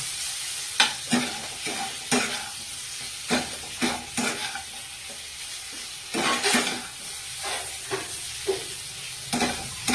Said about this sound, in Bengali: নারকল কুড়োটা দিয়ে এটা ভাজতে থাকতে হবে